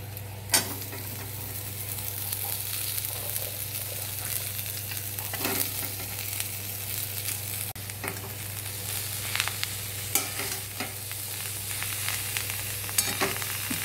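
Cabbage frying with turmeric in a pan, a steady soft sizzle running throughout with occasional sharp clicks and stirring scrapes, no voices.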